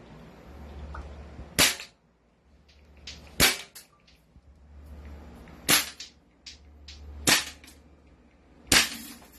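M4A1 gas blowback airsoft rifle firing until empty: five sharp, loud single shots spaced about two seconds apart, each followed by small mechanical clicks, in a quiet setting with no talking.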